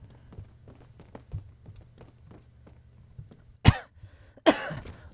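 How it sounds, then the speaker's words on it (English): A person coughs twice, sharp and close, after a stretch of quiet tapping and clicking while gaming. "Oh my god, still coughing."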